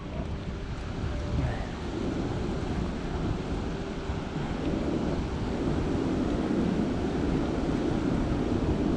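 Steady wind rumbles across the microphone on a beach of soft sand on a large sand island, with a dull continuous surf wash blended underneath.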